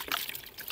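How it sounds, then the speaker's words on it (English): Water drains from a Lay Z Spa hot tub through an opened lower connection point into a bowl or bucket, a steady close trickle and splash that runs without a break. "and drain the water out."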